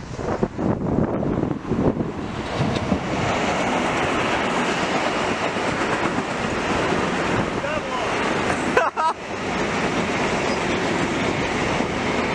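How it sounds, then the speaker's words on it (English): A train rumbles past close by, with continuous clattering wheels and rushing noise throughout, and a voice briefly heard over it. "Train."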